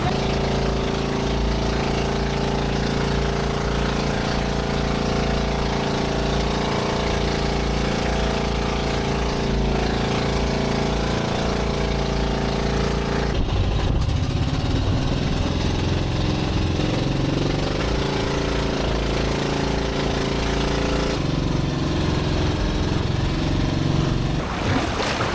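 A boat engine drones steadily throughout near a pier in Puerto Princesa, Philippines, low and continuous with a constant hum, shifting slightly in tone midway, loud and close with no talking.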